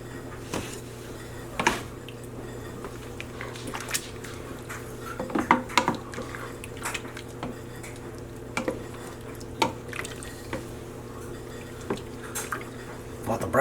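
A flat spoon scrapes browned bits off the bottom of a pan of French onion soup as it comes to a boil, giving repeated short scrapes and clinks over a steady low hum.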